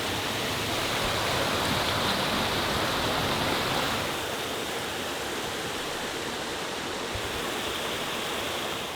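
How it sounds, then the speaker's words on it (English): A mountain stream in a Teton canyon rushes beneath a footbridge, a steady, close, full-bodied wash of flowing water that stays even throughout with no voices. "I'm wondering what this stream crossing is going to be like."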